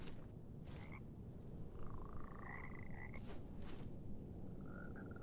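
Frogs croak over the dense, grainy ambience of a swampy area in the Mortal Shell video game, several short rising calls scattered among the background noise at a moderate distance, with no talking.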